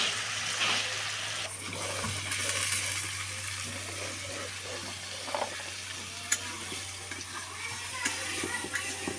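Potatoes and a fish head sauté in a pan with a soft, steady sizzle over a low hum, broken now and then by light clicks of stirring.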